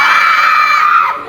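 A group of children in a classroom shout together in one sustained, loud, high-pitched cry that holds for about a second, then stops abruptly.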